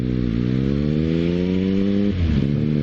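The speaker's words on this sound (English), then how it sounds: "Quick check all around the bike, and away we go." A motorcycle engine revs and pulls away from a stop, its tone climbing steadily before dropping at a gear change, loud and close with a continuous throaty drone.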